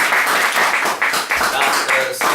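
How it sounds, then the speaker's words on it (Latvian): Applause at a LAN party award ceremony, a steady wash of clapping that fills the short moment evenly, with a brief dip near the end. "aplausi"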